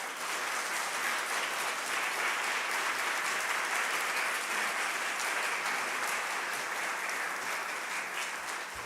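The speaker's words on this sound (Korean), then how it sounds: "나오실 때 크게 박수로 환영하면 좋겠습니다" A church congregation at a joint revival service claps steadily and loudly to welcome a preacher, with dense sustained applause lasting throughout and no speech over it.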